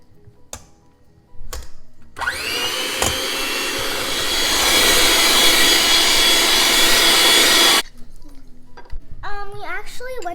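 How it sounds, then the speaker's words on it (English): Sugar and butter being whisked for vanilla butter cookie dough, a loud continuous scraping whir lasting several seconds, with clinks and brief sounds before and after. "now I'm going to try and whisk it"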